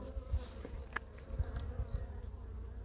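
Honeybees buzz steadily around a sparsely populated hive in spring, a soft continuous hum with individual bees droning past close by.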